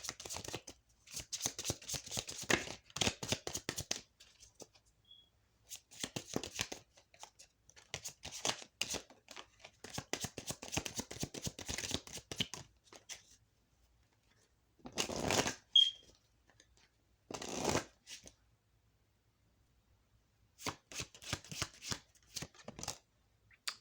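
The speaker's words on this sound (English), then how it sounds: "after I pull some more cards from different decks" Cards shuffled and pulled from several decks, crisp riffling flutters in repeated bursts with short quiet gaps between, close up and soft, without speech.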